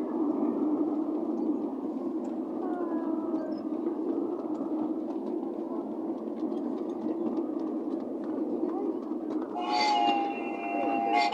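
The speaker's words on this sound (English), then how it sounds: "That's the furthest that the Sir Nigel Gresley, the miniature version, has moved today." A miniature model of the steam locomotive 60007 Sir Nigel Gresley at the Nene Valley Railway gives a steady, close, low rumbling drone that holds throughout, with a brief bright whistle-like tone entering near the end.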